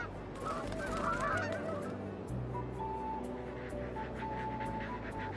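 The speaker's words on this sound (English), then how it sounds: "We're here on Tiglax to look for Aleutian Canada goose nests." Aleutian Canada geese honk on a remote Alaskan island, with repeated nasal calls at middling distance over a steady low background hum of engine or wind.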